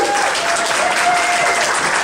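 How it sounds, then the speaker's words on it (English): An audience applauding at a volunteer of the year awards ceremony in 2013, a dense, loud, steady wash of clapping filling the whole moment. "Can you give yourselves a big round of applause first off,"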